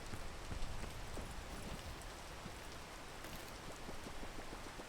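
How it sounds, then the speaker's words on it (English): Steady rain falls on a surface in the Peak climbing game, a dense hiss with scattered drop taps throughout, fairly quiet, no talk. "It's raining."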